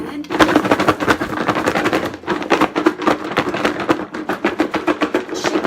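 Green bean fries being shaken with seasoning inside a box, a dense run of rapid rattling, scraping shakes that starts near and loud, pauses briefly, then carries on in quick repeated bursts.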